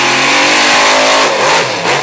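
A monster truck engine revs loudly up close at a Manassas, Virginia event, roaring and rising in pitch before easing off near the end.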